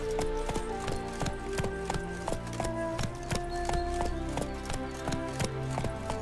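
Horse hooves clip-clop in a steady trotting rhythm, loud and close, over a low droning background, from the video game The Witcher 3: Wild Hunt.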